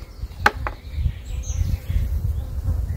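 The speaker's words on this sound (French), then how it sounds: "Il y a trop de butineuses dans les ruches." Honeybee foragers buzzing around beehives outdoors, with a low, diffuse hum that rises and falls throughout and a couple of brief sharp clicks near the start.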